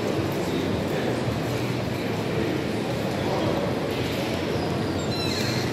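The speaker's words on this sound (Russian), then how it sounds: "Это Киевский вокзал" Busy hall of Kyiv railway station, a dense, steady wash of crowd noise and echoing murmur with no single event standing out, held at an even level throughout.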